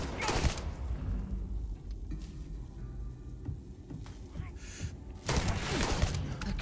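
Gunfire erupts in the sci-fi game Starfield, loud bursts of shots at the start and again near the end, with quieter action and faint voices in between.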